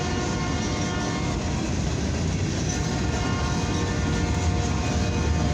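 Loud and near, a CFE eastbound mixed freight and steel train roars by without a break, its steady wheel rumble joined by a held horn note.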